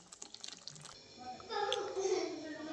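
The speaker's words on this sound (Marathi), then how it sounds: "आता गरम केलेलं पाणी टाकते." Heated water poured into a pan of thin potato curry that has just been tempered, a steady splashing pour that swells after about a second and a half, after some faint, soft talk in the background.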